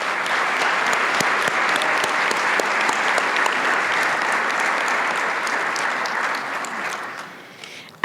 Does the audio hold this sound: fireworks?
no